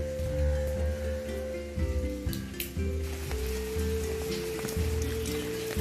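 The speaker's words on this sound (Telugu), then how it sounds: "వర్షం చిన్నగా పడినా సరే" Light rain patters steadily on a house's shed roof, with a soft continuous hiss and scattered drops over a low background hum.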